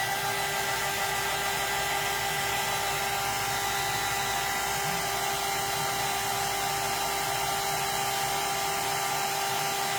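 Hair dryer blowing continuously on wet craft flowers for a Halloween ghost decoration, a steady, fairly faint whooshing hiss with a constant motor hum throughout.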